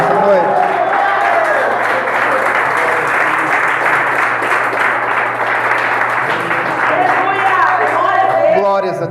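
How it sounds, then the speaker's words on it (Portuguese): A church congregation applauds in a sustained, dense wash of clapping that stays loud and even throughout, with crowd voices and a low hum mixed in beneath it. "Você pode aplaudir o Rei dos Reis e Senhor dos Senhores nessa noite?"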